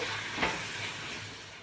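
Five or six large chopped tomatoes sauté in oil for chicken biryani, a soft, steady sizzle with a brief stirring scrape near the start, heard close and without voices.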